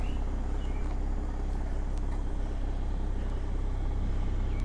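A 2021 Toyota Supra pulls away with a steady, low engine and road rumble that holds at an even, moderate level throughout, with no voices.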